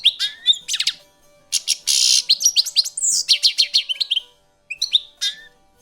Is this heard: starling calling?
yes